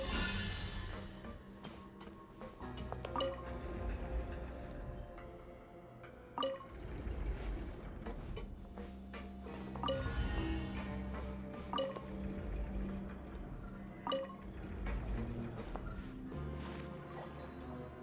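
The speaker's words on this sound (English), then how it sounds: "the water level's gone way up" Water pours and fills in a Genshin Impact puzzle, a continuous rushing, gurgling flow with scattered drips and splashes, moderately loud under game music and ambience.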